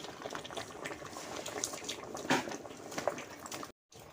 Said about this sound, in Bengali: ডাল চাল ফুটে উঠেছে